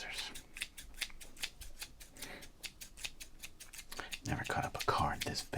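Scissors snip repeatedly in crisp, closely spaced cuts through a stiff, large 1986 Donruss All-Star baseball card, close up, with soft handling rustles toward the end.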